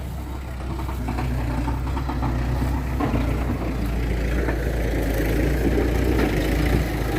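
A steady farm tractor engine drones throughout, low and rumbling with a constant idle-like throb, close by and continuous with no talking, in a rice field.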